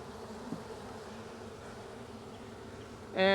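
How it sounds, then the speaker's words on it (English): Agitated honeybees from a queenless colony give a steady low hum throughout, with a louder buzz swelling up close at the very end. "they can tell their queen is missing. I don't know if you guys can hear the roar"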